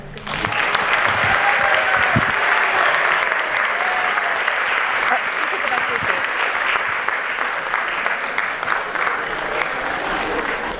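A large audience applauds young writers at an elementary school evening reading event, sustained dense clapping filling the room for about ten seconds, steady and loud with a slight fade toward the end.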